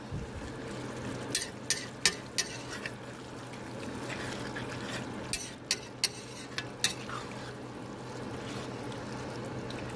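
A spoon stirs food in a pot during Sunday dinner cooking, with two clusters of sharp clinks and scrapes against the pot over a quiet, faintly bubbling background.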